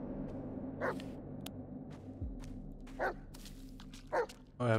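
A dog in the Blair Witch video game gives four short barks spaced a second or so apart, fairly close and clear over a quiet low ambient hum.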